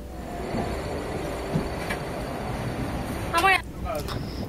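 A passenger train on the Kolkata to Ranchi route pulls away from its platform with a continuous low rumble and rolling noise, a brief louder tonal burst rising near the end.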